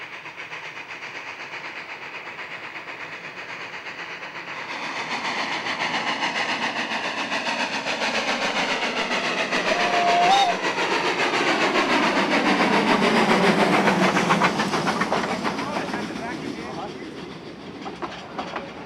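A locomotive on the Furka mountain railway passes the avalanche memorial, its rumble and clattering wheels swelling louder mid-way, with a brief whistle tone, then easing off; no talking over it.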